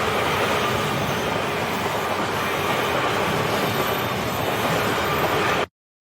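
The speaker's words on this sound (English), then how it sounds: "Then the train comes." An anime train arrives as a loud, continuous broadband roar with clattering rail noise, holding steady for several seconds before cutting off abruptly into silence.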